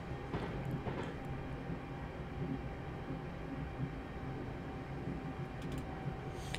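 Class 350 electric train on the West Coast Main Line Trent Valley, heard from inside as a steady rolling rumble with a faint whine, occasional light clicks of the wheels, and a slowing feel.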